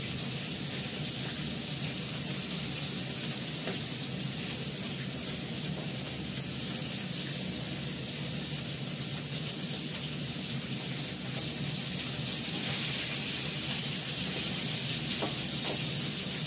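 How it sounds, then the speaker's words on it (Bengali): Chili frying in a pan gives a steady, dense sizzle and hiss that runs unbroken for about sixteen seconds, close and even in loudness. "লঙ্কাটাকে একটু ভালো করে ভাজবো"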